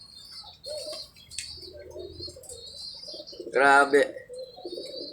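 Pigeons coo and rustle nearby, with a burst of wing flapping midway, while a person says a brief word.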